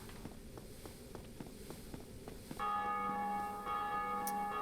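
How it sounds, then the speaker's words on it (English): A bell tone in Dark Souls Remastered, in Blighttown, rings out and sustains with a steady, resonant hum over faint rhythmic footsteps and ambient noise. "That's not from me ringing the bell."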